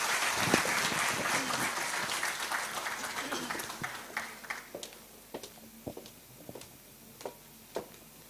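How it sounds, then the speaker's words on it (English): An audience applauds panelists at a show, starting as dense clapping that thins out into scattered single claps near the end, with some voices underneath. "Huge round of applause for our panelists."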